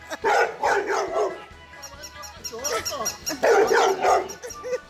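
A dog plays with a plush toy dog, giving short barks and yips in two loud bursts with whimpering and scuffling sounds in between, close to the listener.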